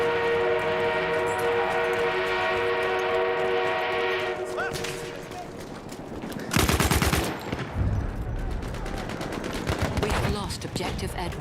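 Battlefield 1 gameplay with a steady droning horn-like tone from an enemy armored train that cuts off, followed by a loud burst of rapid machine gun fire and further clattering game noise.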